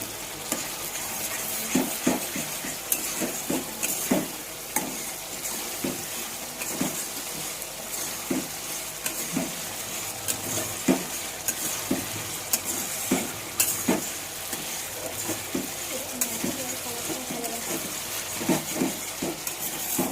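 Spices with Kashmiri chili frying in a pan under a continuous close sizzle, while a utensil scrapes and taps the pan in a steady stirring rhythm throughout.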